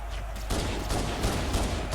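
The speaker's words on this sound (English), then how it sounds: "Sometimes it's best just using the pistol." Pistol fire in Halo, the Master Chief Collection, on Heroic difficulty, with a burst of sharp gunshots starting halfway through and continuing as dense, close, loud firing over game background noise.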